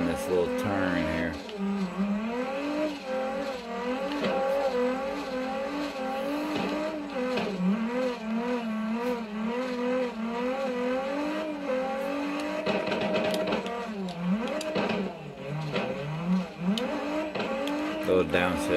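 Godzilla R3 car drifting on a snowy track, its engine revving up and down in wavering surges with brief dips, heard continuously and fairly loud.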